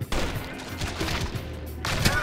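Rapid gunfire from a rail shooter zombie game, House of the Dead Overkill: bursts of shots crackle steadily for about two seconds, loud and close, with game noise layered underneath.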